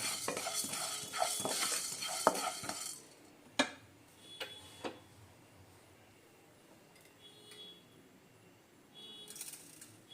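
Cumin seeds frying in a pan and stirred with a spoon: busy scraping and clinking at first, then a few sharp spoon knocks and a faint lingering sizzle, close by and without speech.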